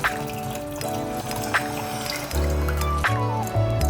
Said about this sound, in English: First, we need a bowl of water.